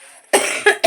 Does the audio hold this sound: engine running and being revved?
no